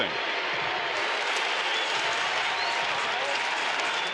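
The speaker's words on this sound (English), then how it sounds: "it's great to see the crowd behind Moustakas with all the signs" A baseball stadium crowd at a Kansas City Royals game against the Baltimore Orioles applauds and cheers steadily, a dense wash of clapping and crowd noise filling the whole stretch at a fairly distant, even level.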